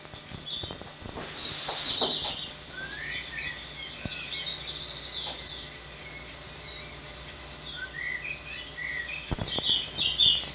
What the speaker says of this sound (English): this is the sound effect of birds singing